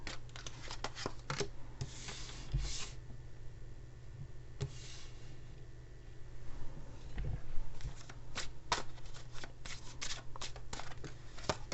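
A Chinese-style tarot deck being shuffled by hand, a steady papery riffle of rapid card flicks and soft rubbing over a low background hum, moderately close and fairly quiet, with no talking.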